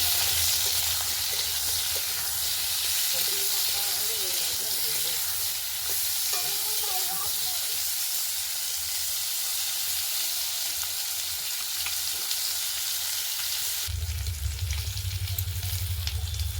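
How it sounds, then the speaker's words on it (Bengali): Potatoes frying in oil for a catla fish and flat bean curry, giving a steady close sizzle with occasional stirring scrapes, and a louder burst of crackle near the end. "আলুগুলো ভালো করে লাল লাল করে ভেজে নেব।"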